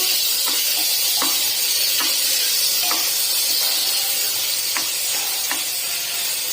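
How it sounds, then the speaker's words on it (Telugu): Tomatoes fry and sizzle in a pan for chicken curry, a steady close hiss broken by a few light clicks of stirring, with no voices. "ఇప్పుడు టమాటా బాగా పచ్చిగా లేకుండా మెత్తగా అయ్యే వరకు మనం బాగా వేయించుకోవాలి"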